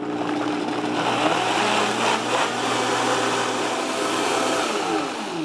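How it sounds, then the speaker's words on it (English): A blender purees chopped vegetables with garlic into a smooth mixture, running as a loud, steady motor roar throughout with no pauses and no talking. "throw that into the blender along with the garlic, and then we're going to make a puree out of the mixture here"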